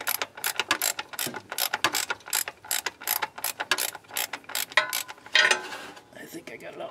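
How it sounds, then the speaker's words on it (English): Ratchet wrench loosening a 10 mm bolt with blue Loctite on an 8L90 transmission of a 2019 Silverado: a long run of rapid, close, loud clicking strokes in steady bursts, with a brief pause near the end. "You're gonna have to ratchet it most all the way."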